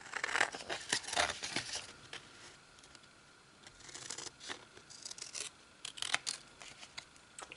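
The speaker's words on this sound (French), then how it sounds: "Et voilà, je coupe maintenant." Paper being cut with scissors at a craft table, a quiet series of crisp snips and rustling paper, close but faint, with no speech.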